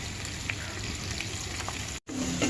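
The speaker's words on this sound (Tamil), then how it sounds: "வெங்காயம் நல்லா பொன்னிறமாக வதங்கிடுச்சு" Onions, green chilli and curry leaves frying in a pan, a constant close crackling sizzle with scattered pops, briefly cut off for a moment before resuming.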